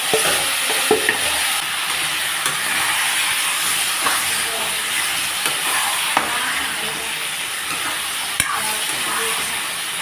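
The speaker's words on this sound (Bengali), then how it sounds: "মশলা দিয়ে মাখানো মাংসটা আমি ছেড়ে দিচ্ছি।" Spice-marinated chicken fries in a pan with coriander, cinnamon, cumin and bay leaves, making a steady hissing sizzle throughout with a few faint clinks from the pan.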